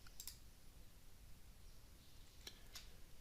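Two crisp mouse clicks, a quick pair near the start and another pair about two seconds later, close and light against a quiet background hiss.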